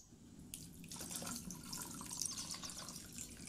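Boiled water is poured over drained, cooked ingredients in a kitchen while making sweet iced drinks, giving a steady, close splashing stream with a faucet-like rush, heard alone without talk.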